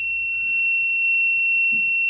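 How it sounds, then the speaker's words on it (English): Buzzer on an ultrasonic-sensor smart boat kit giving a steady, piercing high-pitched electronic tone that holds for the whole stretch, loud and close, with faint handling noise beneath it. "the buzzer starts beeping if there's any object under 15 centimeter"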